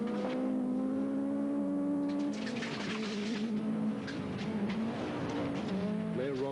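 A Ford factory replica rally car drives flat out down a straight at a televised rallysprint, its engine a loud, steady drone that rises and shifts pitch near the end, with faint bird coos and a little talk in the background.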